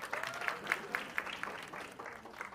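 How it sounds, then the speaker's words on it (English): Faint, evenly spaced hand claps from a small audience at a Sikandar trailer launch at PVR Juhu greet Satyaraj, a soft rhythmic patter at a distance. "can we have a big round of applause for Satyaraj sir?"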